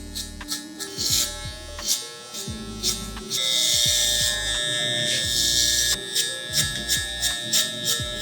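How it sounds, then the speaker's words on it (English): Electric hair clipper buzzing close up while cutting the base of a low taper fade, a steady motor drone broken by repeated short upward flicking strokes through the hair. "As I'm going up with my clipper, I go up and then I flick out."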